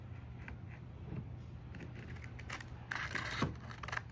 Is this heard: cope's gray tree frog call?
no